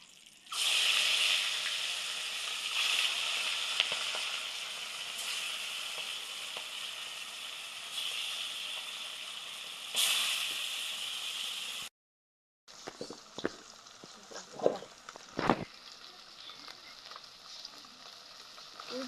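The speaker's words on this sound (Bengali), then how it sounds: "মাছগুলো ভেজে নিব এবার।" Hilsa fish fry in hot oil with a loud, steady sizzle and hiss up close. The sizzle breaks off briefly, then returns softer with scattered pops and crackles.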